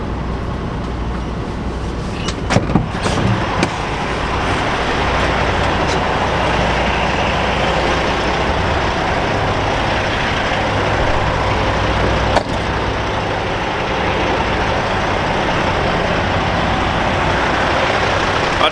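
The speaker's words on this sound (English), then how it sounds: "There's trucks everywhere. It's super loud out here." Heavy trucks and traffic rumble continuously at a huge truck stop off Interstate 80 in Colorado, a loud, dense roar with a few sharp clanks and bangs near the start.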